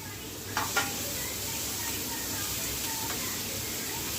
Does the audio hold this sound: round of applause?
no